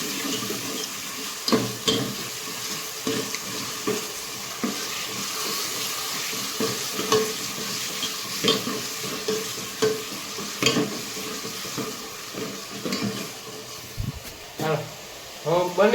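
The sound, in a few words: vegetables frying and being stirred in a pan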